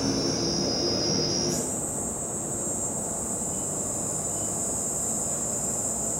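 A continuous high-pitched drone of one cicada species, including the albivalnata, shifts abruptly to a second species' higher, thinner buzzing tone partway through, which then holds steady.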